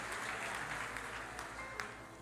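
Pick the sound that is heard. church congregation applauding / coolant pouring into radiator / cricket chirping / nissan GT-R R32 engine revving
church congregation applauding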